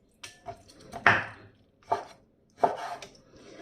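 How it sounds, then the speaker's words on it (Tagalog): Knife slicing raw chicken breast thinly at a slant on a cutting board: a few sharp, separate chopping knocks spaced about a second apart, close and fairly quiet, with no talk. "I-slice lang natin ito ng paslanting at saka manipis para madali lang ang pagluto ng ating chicken breast"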